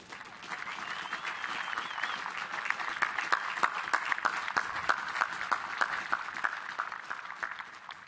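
A crowd at the USS Sioux City (LCS 11) commissioning ceremony gives the ship's crew a standing ovation, with dense, sustained clapping from many hands that holds steady and even throughout, somewhat distant and without voices on top.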